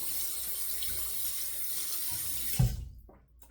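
Water running steadily from a tap while a shavette razor is rinsed, a continuous hiss of flow that stops abruptly near the end, leaving a brief knock and quiet.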